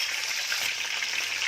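Chopped curry leaves dropped into hot mustard oil for a tempering, a steady close hiss and crackle of frying oil with no break throughout.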